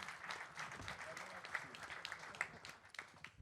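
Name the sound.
audience applause at press conference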